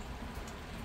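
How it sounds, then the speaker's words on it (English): Steady rain falling outdoors on grass, a dense even patter of drops with no voices, short and moderately quiet. "it's raining right now"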